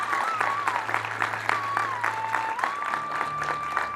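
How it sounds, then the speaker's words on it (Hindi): Loud, continuous applause from a crowd at an International Yoga Day gathering honouring a Patanjali yoga teacher, dense clapping sustained throughout with a steady background hum and faint voices mixed in. "जोरदार तालियों से उनका स्वागत किया जाए।"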